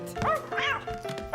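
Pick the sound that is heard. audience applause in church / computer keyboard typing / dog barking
dog barking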